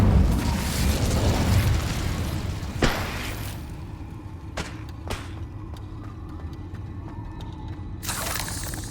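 Incendio fire spell cast in the Hogwarts Legacy video game: an opening fiery whoosh and crackling burst, followed by a sharp impact, several short pops and a fading rumble.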